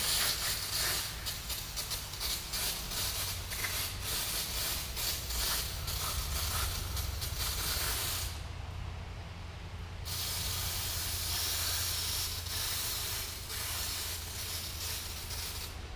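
A water spray washes parts from a Bush Hog 2400QT loader being rebuilt for a Ford 5610 tractor, making a steady close hiss that runs continuously and drops out briefly once before resuming.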